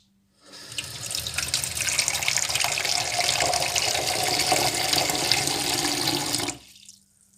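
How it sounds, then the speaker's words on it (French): Kitchen tap running steadily into a glass to measure water for homemade bread dough, a loud continuous splashing stream lasting about six seconds, close and alone, then shut off. "mettre 300 ml d'eau, pas plus, pas moins non plus"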